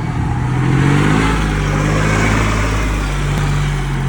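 Farm vehicle, likely a tractor, driving out along a half row while flower beds are built on a 2024 flower farm; a steady, close, loud low engine drone with a faint lift in the middle, no talking.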